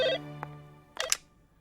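A phone ringtone sounds in a few short electronic tones: a sustained tone first, then a brief blip, and finally two quick bright chirps, close and fairly loud.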